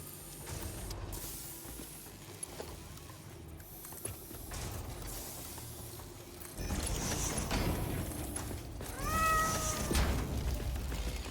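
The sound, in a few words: cat meow sound button on stream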